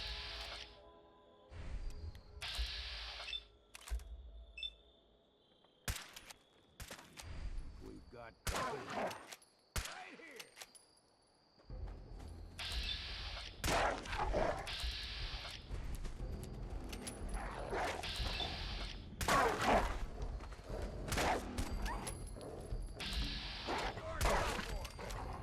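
Rifle fire from Fallout 4, heard in repeated bursts and single shots with sharp, loud cracks. The bursts come in clusters and grow denser toward the end, with a brief quiet gap partway through.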